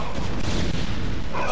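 Dense, continuous booming battle noise from a StarCraft match, with cannons and other units firing in a steady rumbling barrage that fills the whole stretch at high level, no voices over it.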